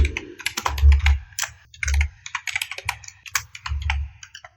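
Commands being typed on a computer keyboard into a terminal, close and crisp key clicks in quick uneven bursts with short pauses between them.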